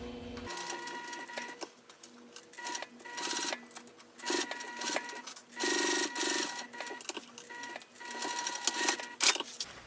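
A home sewing machine back stitches along a zipper seam on a crossbody bag, producing rapid, buzzy stitching bursts that start and stop repeatedly, close and clear, with short pauses between runs.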